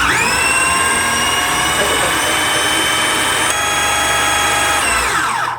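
An electric grinder runs steadily for about five seconds, a loud, even motor whine, as it grinds ingredients for a pumpkin pie cheesecake, then spins down at the end.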